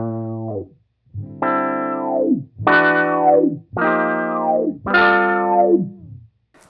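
A Beetronics Zzombee filter pedal in ramp mode processes five distorted guitar notes, each sweeping downward through the filter in a repeating ramp, loud and close with short gaps between, no talking.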